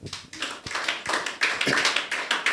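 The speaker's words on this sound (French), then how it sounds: "Si quelqu'un a compris ce passage, applaudissez à la gloire de Dieu." A church congregation bursts into sustained applause, many hands clapping together in a dense, steady patter that rises and swells for a few seconds.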